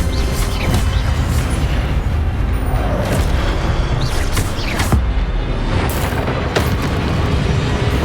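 An Incendio fire spell erupts in Hogwarts Legacy as a deep, loud booming blast with rumbling bursts and sharp impacts, no voices.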